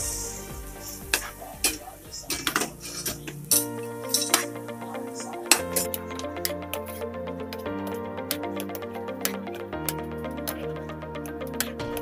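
Rava upma is stirred in a pan as hot water is added bit by bit to the semolina, with a spoon clinking and scraping against the metal in irregular bursts over a soft, sticky squish.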